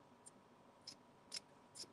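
Sewing scissors snip fabric in four short, crisp cuts spaced about half a second apart, close by and fairly quiet over a faint background hum, after a seam has been finger-pressed for trimming beside a Janome DKS100 sewing machine.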